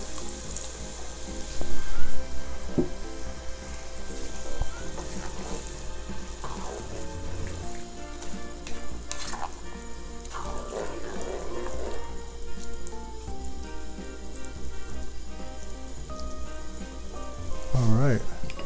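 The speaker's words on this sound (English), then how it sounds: "Now we're going to add 2 cups of water." Water poured into a pan of sizzling Filipino chicken bopis cooked in annatto oil sets off a steady hiss and bubbling, with occasional clinks of utensils and a brief voice near the end.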